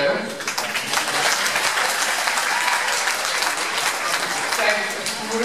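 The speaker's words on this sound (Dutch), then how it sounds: "En ik vind dat die ook wel een applaus mogen hebben" An audience at an afternoon event applauds the sponsors with steady, vigorous clapping that fills the whole moment, while a voice keeps talking over the applause.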